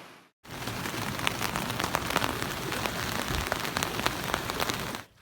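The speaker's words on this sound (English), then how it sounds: "Rained all morning, and I just spent the past half an hour to an hour walking through this" Steady rain falling outdoors on a rainy morning in the Welsh hills, a dense continuous patter of drops on surfaces, close and even throughout after a brief silent start.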